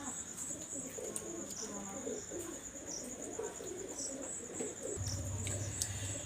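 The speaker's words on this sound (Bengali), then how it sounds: "এখানে দেখেন আমি আর একটা জোড়া কবুতর দেখাচ্ছি।" Several pigeons coo in a continuous low, bubbling murmur, mid-distance, over a steady high-pitched whine and insect-like chirps, with a louder low hum entering near the end.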